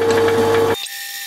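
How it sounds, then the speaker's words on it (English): A drill press whines steadily as it bores full diameter into metal, then cuts off abruptly and the motor winds down into near silence. "The drill is now drilling full diameter."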